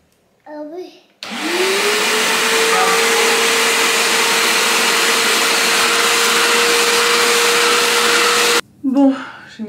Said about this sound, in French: j'ai essayé de la sécher un peu au sèche-cheveux